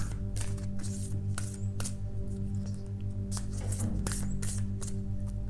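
Cards riffle and slap in quick repeated bursts, close and crisp, over a low steady hum with no talking.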